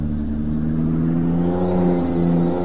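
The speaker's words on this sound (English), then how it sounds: "I love the sound of this truck compared to all the other ones." A Peterbilt 389 truck engine in a truck-driving video game, a steady, loud mid-pitched drone that swells slightly as revs climb, with a whirring hum and no voices over it.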